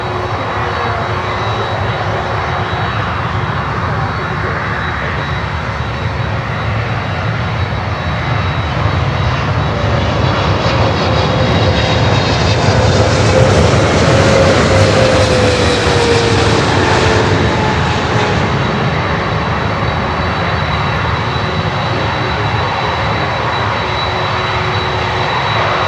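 A Lufthansa airliner's engines roar on runway 8, a loud, sustained, broadband rumble that swells toward the middle as the jet passes nearest, then eases slightly. A steady whine rides above it and no one speaks.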